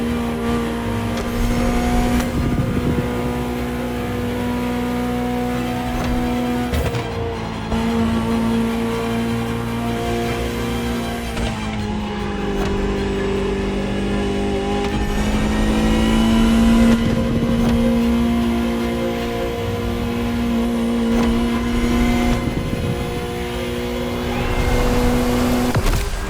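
A Ferrari supercar that debuted at the 1984 Geneva Motor Show, driven in The Crew Motorfest video game. The engine hums loudly and steadily and rises and falls through gear changes, with occasional revs and swells over about half a minute and no voices.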